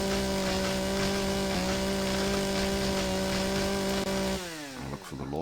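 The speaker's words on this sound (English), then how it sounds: "You do start with a chainsaw." Loud, sustained engine drone of a chainsaw cutting trees in the video game Empyrion Galactic Survival, a steady buzzing tone that dips and revs down near the end.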